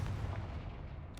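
A Confringo blasting spell explodes in Hogwarts Legacy, a single short low boom fading out within about a second.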